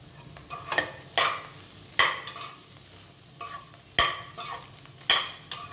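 Bitter gourd stir-fries in oil with chilli powder, a continuous sizzle broken by sharp, repeated scrapes and clacks of a spatula against the pan, close and fairly loud, with no speech.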